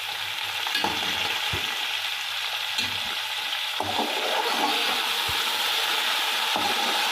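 Mutton frying in a pot gives a steady close sizzle, broken by several sharp clicks and knocks of a spoon stirring against the pot.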